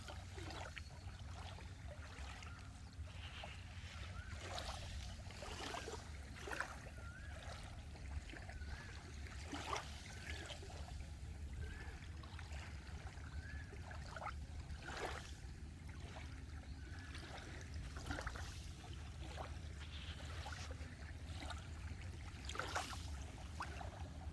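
Sea waves washing ashore at the seaside, a soft low continuous wash with faint trickling and occasional brief splashes, quiet and steady throughout with no speech.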